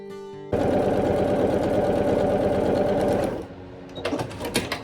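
Sewing machine stitching quilt panel pieces together, a loud, close, steady rapid mechanical whir that runs for about three seconds, then slows and stops, followed by light handling clicks.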